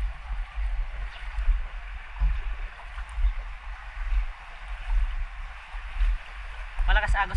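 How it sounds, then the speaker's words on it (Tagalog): Strong floodwater current rushes steadily through a flooded town in Calasiao, Pangasinan, a continuous gurgling wash close by, with voices briefly talking near the end. "lakas ng agos"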